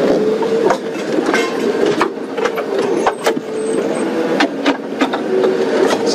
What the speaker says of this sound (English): these branches and small sort of sticks that are sticking up, they sound a lot worse than they actually are, folks, because they're just running underneath the bottom of the car